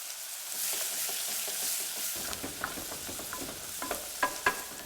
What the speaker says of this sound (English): Shock the butter by simply adding the chopped onion